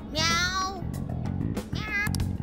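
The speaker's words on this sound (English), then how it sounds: "That sure is a noisy cat." A video game cat in Persona 5 Strikers gives two loud, drawn-out meows, one near the start and one near the end, with low game sounds underneath.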